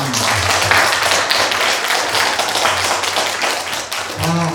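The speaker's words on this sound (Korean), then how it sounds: "우리 대전대학교 진석용 교수님의 여러분 큰 격려의 박수 한번 부탁드립니다" Audience at a university humanities forum claps in encouragement for a professor, a dense, close patter of hands, with a voice faintly audible near the end.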